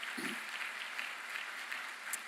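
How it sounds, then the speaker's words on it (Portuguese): A church congregation applauds, a soft, fairly distant patter of clapping that holds steady for a couple of seconds with no voices over it. "Vamos aplaudir a Jesus por isso."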